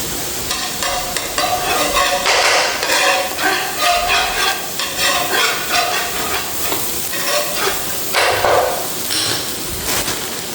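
Butter sizzling in a hot pan while burgers are being made, a loud, continuous crackling hiss that surges and fades, with some scraping of a utensil, and no voice heard.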